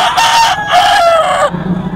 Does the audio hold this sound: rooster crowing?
yes